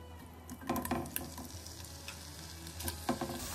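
Bacon sizzles and browns in its own fat in a pan, giving a quiet, close frying crackle with a few bursts of utensil clatter and stirring.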